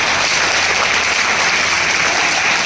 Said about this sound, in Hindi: एक बार जोरदार तालियां सर के लिए बजाएं